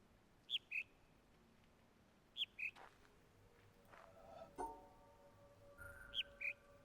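Short bird chirps sound in pairs inside the puzzle game The Witness, faint and repeating at intervals over a quiet hum, with soft clicks and a light thud between calls.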